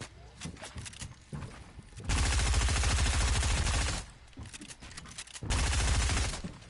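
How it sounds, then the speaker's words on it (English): Gunfire in a video game: two long, loud bursts of rapid automatic fire, each lasting one to two seconds, with quieter scattered game sounds and footsteps between them. "I'm getting shot in the back."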